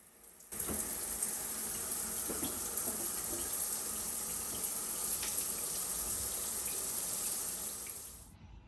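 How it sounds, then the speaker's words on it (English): A shower runs with a steady, even hiss of falling water that starts abruptly and continues at a constant level before tapering off at the end; no voices. "I am now going to have a quick shower and get ready for my midwife appointment"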